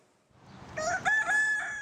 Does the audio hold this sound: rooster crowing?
yes